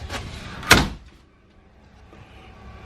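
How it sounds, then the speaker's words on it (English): Pocket door in the living quarters of a 2020 SMC SL8415 four-horse trailer, a short rolling slide ending in a firm knock, then a quiet interior. "Got a pocket door leading into the bathroom."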